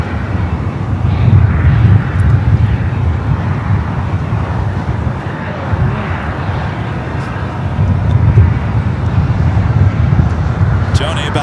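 Airplane taking off at Los Angeles International Airport, a loud continuous low engine roar with rumbling throughout, heard under someone talking over it.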